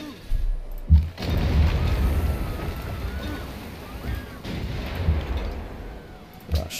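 Artillery barrage in Civilization 5: Gods & Kings, a run of deep, rumbling booms spaced a second or so apart over a low background roar.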